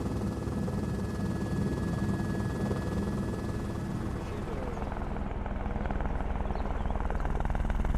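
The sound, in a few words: helicopter flying over Mont Blanc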